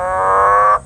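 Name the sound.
green and golden bell frog male call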